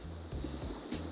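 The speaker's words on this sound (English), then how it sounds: "there's a waterfall, which you could probably hear the noise in the background" A waterfall in Greyfield Wood, a woodland at High Littleton, gives a steady, broad rushing wash that fills the background, with a low rumble under it and no voices.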